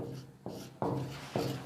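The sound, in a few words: writing on a board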